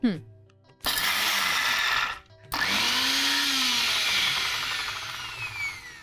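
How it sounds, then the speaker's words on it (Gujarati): A mixer grinder roars loudly in two bursts, whirring at high speed as it coarsely crushes dry sprouted mung beans with no water, with a short pause between runs. "અત્યારે ફણગાયેલા મગને એક મિક્સર જારમાં અધકચરા ક્રશ કરી લઈશું."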